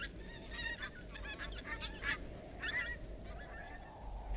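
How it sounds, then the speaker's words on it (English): Geese honking repeatedly at spring tundra nesting grounds, several calls overlapping at moderate distance over a steady low wind-like rumble. "The geese have come to their tundra nesting grounds, braving the spring snowfall from as far away as Mexico."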